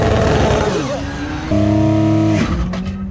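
A 2.5-liter V6 twin-turbo race car revs hard, holds a loud steady high rev, then the note drops as the clutch is dumped for a launch, close and dominant throughout.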